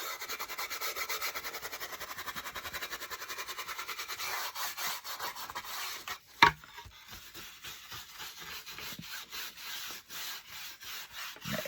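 Brown wax is rubbed back over a painted cardboard carrot with a cloth, giving a steady rhythmic scraping stroke after stroke, close and fairly loud, broken by one sharp knock midway.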